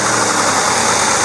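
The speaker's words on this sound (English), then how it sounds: "It'll start up like this. There it is. It fires right off." John Deere 4010 tractor engine running just after starting, a loud, rough, steady close-up rumble with no voices over it.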